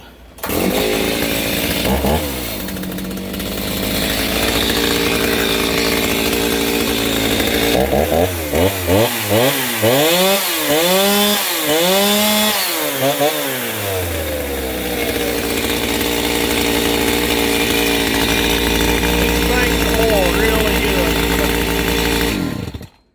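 A Stihl MS 290 chainsaw engine, tuned slightly rich, runs loud and close, idling roughly then revving up and down in repeated bursts before settling back to a steady drone.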